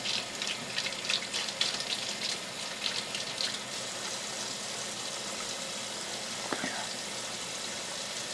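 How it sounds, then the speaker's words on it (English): Warm tap water runs steadily from a faucet in a home kitchen during mead making, a soft continuous hiss with a few faint clinks early on, quiet throughout and with no talking. "let the water warm up"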